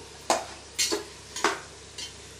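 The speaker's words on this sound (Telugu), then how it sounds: "బ్లడ్ పీసెస్ ఇందులో వేస్తున్నాము." Pieces of blood are dropped into hot oil in a curry pan, giving four short, fairly close bursts of spitting sizzle and clatter spaced about half a second apart, with quiet pauses between them.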